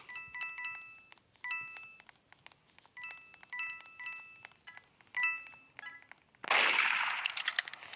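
Gunshots from the video game Roblox Murder Mystery 2 ring out as quick, sharp synthetic pops in short irregular bursts, ending in a louder noisy blast, with no talk over them.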